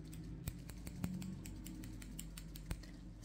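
Scissors snip close up in a quiet room, giving a run of small, sharp, evenly spaced clicks with a few stronger cuts among them and no voices.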